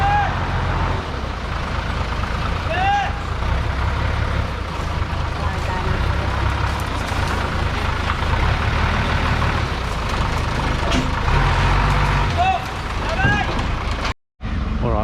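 A truck hauling a water tank on a humanitarian delivery in the Philippines, its engine rumbling steadily and close for the whole stretch, with a few brief squeals over it and one sudden dropout near the end.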